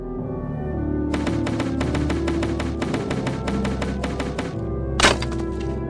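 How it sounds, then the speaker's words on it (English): An axe hacks at a log in a rapid run of close, sharp chops over a sustained musical bed, then pauses before a single louder crack as the log finally breaks. "After hacking away at the log, it finally breaks."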